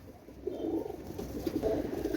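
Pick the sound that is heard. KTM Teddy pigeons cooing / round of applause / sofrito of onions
KTM Teddy pigeons cooing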